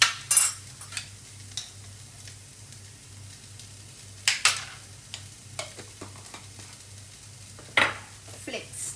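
Ginger and garlic frying in a pan at home while a sandwich is made. Low steady sizzle sits under repeated sharp scrapes and clinks of a spoon stirring against the pan, with no talking.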